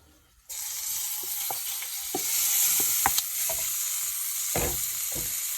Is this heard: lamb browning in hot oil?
yes